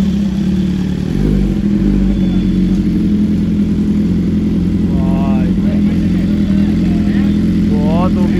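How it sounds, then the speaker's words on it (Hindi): A motorcycle engine idles with a loud, steady low rumble, its revs climbing in short bursts near the end while a voice talks over it. "अगर एक बार रेफ किया ना इतनी जोर से फायर मारेगी,"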